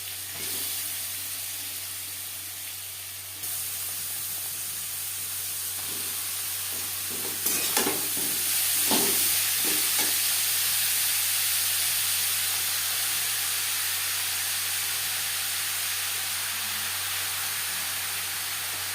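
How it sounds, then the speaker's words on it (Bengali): Grated radish frying in hot oil with nigella seeds and slit green chilies gives a steady loud sizzle. Scraping stir strokes clatter in a short burst midway, then the hiss carries on alone. "অবশ্যই সাবধানে ভাজতে হবে, না হলে তেল ছিটকে পড়ার সম্ভাবনা থাকতে পারে।"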